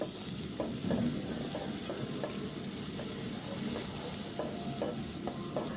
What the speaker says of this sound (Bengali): আমি অপেক্ষা করব পেঁয়াজটা লালচে হওয়ার পর্যন্ত।